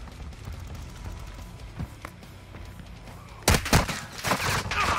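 Video game gunfire aimed at a player: a few scattered distant shots, then a loud, close volley of rapid cracks and impacts with no talk over it.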